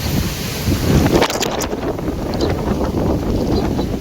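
Strong storm wind with rain blasts across open farmland, roaring and buffeting the microphone in uneven gusts, loud and close, with faint rattling of loose objects and no talk.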